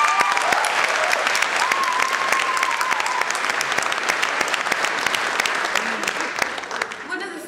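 Audience at the LeicestHERday Jubilee Awards ceremony breaking into loud, dense applause in a hall, sustained many-handed clapping with a faint whistle-like tone early on, tapering slightly toward the end, with voices beneath.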